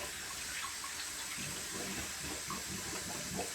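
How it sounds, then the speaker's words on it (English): Cold tap water runs into a sink for a wet-shave rinse, a steady close splashing stream that keeps going throughout with no talking. "Let's rinse off with some cold water."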